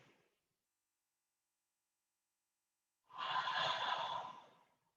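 One slow, deep breath is drawn in a quiet room while resting in child's pose during a yoga flow, a soft airy exhale heard close after a silent pause.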